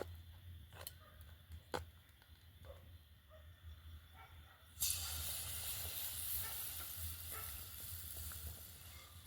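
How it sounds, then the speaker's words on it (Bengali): Ripe banana fritters coated in batter drop into hot oil, a few soft taps giving way to a sudden loud, steady sizzle and hiss of frying that carries on to the end. "এইভাবে কোট করে করে ভালো করে একটু ভেজে নিতে হবে।"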